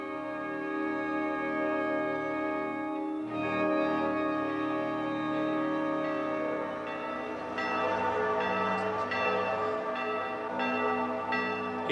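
A large bell in the Palazzo Vecchio tower in Florence tolls in slow, resonant strokes. Each strike leaves a long ringing hum, and the peals grow brighter and more layered toward the end.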